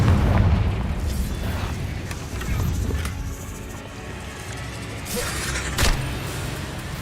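Confringo fire spells burst in Hogwarts Legacy, with heavy booming explosions at the start, in the middle and near the end, and low rumbling between them.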